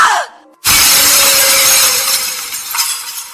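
A mirror hurled onto a wooden floor shatters in one loud, sudden crash, followed by a sustained spray of breaking glass and ringing shards that slowly thin out, heard alone after a brief quiet moment.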